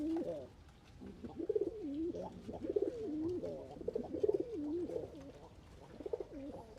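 Several caged pigeons coo repeatedly nearby, soft throaty rolling calls overlapping in a steady rhythm, with faint fluttering between them.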